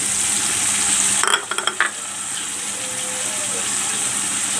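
Banana stem and dried fish frying in a pan, a steady broadband sizzle with a short burst of clattering stirring early on, then a settled, even hiss close by.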